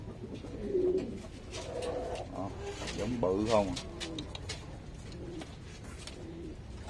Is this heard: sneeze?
no